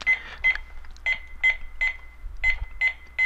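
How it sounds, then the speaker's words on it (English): A rapid series of short electronic beeps sounds during a CRM software demonstration, about ten quick evenly spaced tones, clear and close. "sorry for the beep."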